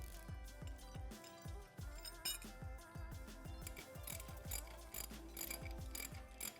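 Ratchet with a 17 mm socket tightening bolts on a Polaris General 4 1000 UTV; steady, close clicking of the pawl in rapid repeated strokes, with faint metallic clinks and no talking.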